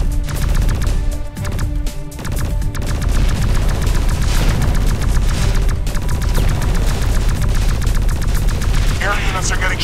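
Loud, dense gunfire from X-Morph Defense as air units are shot down: continuous rapid machine-gun bursts mixed with heavy booms and explosions, nearly unbroken throughout and mixed with game effects.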